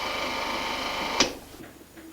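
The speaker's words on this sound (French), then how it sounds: "Le système de bielle qui entraîne la grille." An old film projector's connecting-rod claw mechanism runs with a fast, steady mechanical chatter, then a sharp click as the rattle drops away.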